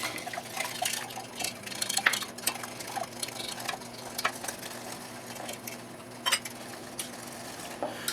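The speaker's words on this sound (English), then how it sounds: "we're just going to mix these just like you were doing scrambled eggs" Eggs beaten with vanilla and sugar into a custard for apple bread pudding, giving soft, irregular clinks and scrapes of a utensil against a bowl, faint and close over a quiet room hum, with no voices.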